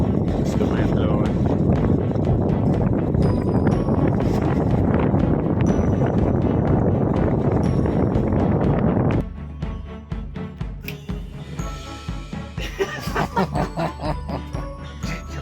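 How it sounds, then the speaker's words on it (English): Wind roaring across the microphone aboard a Hughes Columbia 8.7 sailboat on Georgian Bay, loud and constant at first, then easing into gusty rustling with light tinkling from the boat. "Not too much sound. Just the wind blowing."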